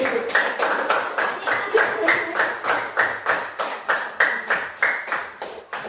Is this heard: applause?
yes